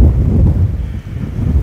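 Gusts buffet the microphone with a heavy low rumbling roar that swells and dips over a couple of seconds, loud and close, with no talking.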